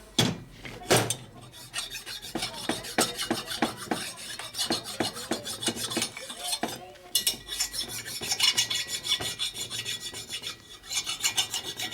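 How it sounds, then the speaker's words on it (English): Hand file rasping burrs from new Harley-Davidson 110ci Screamin' Eagle cylinder heads, with repeated close, scratchy strokes in uneven bursts and short pauses between passes. "File from multiple angles so you don't take off any spots where you don't need it to come off of."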